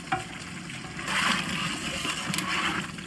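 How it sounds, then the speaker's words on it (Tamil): Vinegar is poured into anchovy pickle, a close, steady liquid splash and patter lasting a couple of seconds over faint background hiss, with no talk. "நம்மளோட ஊறுகாய் கெட்டு போகாத இருக்கிறதுக்காக கொஞ்சமாக வினிகர் சேர்த்துப்போம்"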